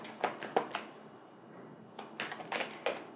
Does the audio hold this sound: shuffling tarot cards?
yes